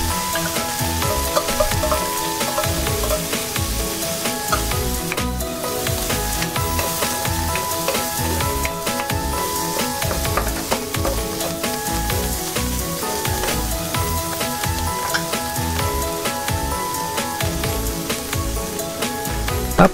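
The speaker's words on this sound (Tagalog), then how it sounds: "Add na natin yung mushroom doon sa ating wok." Mushrooms fry in a hot wok with a loud, dense, continuous sizzle, broken by the scrape and clatter of stirring throughout, and no talking.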